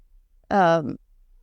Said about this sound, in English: You also may be hearing Junie in the background.